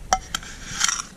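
A frying pan clinks and rattles as it is handled, with a few brief metallic knocks and a short scraping clatter near the end.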